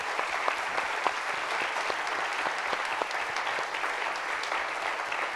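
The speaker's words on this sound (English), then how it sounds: "Everybody give a round of applause to Ross King." An audience applauds author Ross Gay at an Inciting Joy talk: steady, dense clapping from a crowd that holds at an even level throughout, with no speech over it.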